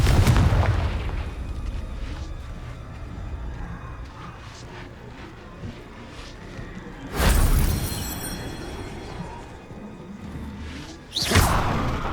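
Confringo spell blasting rocks in Hogwarts Legacy, two loud explosive bursts with crumbling debris and whooshes over a steady game ambience.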